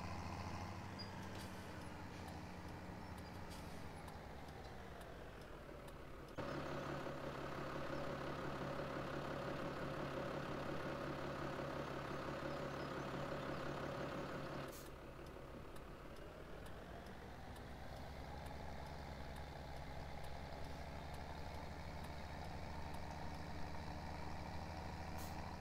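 A small tractor engine in Farming Simulator 2017 runs steadily throughout, a continuous low drone that swells louder and rougher in the middle as it revs, then settles back to a lower hum.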